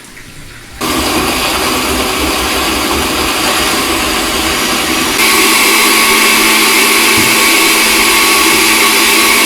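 A blender whirs steadily as it purées garlic cloves, oregano, adobo chipotle chile and salt for Mexican meatballs, starting abruptly after a short quiet moment and running loud and continuous, then rising slightly in pitch partway through.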